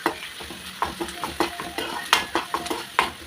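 Chopped ginger goes into frying onions and is stirred in a pan, giving a rhythmic series of about nine spoon scrapes over a continuous close sizzle, no talking.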